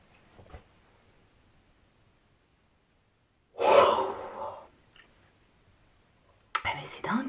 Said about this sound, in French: ça me fait mal à la mâchoire tellement que je baille fort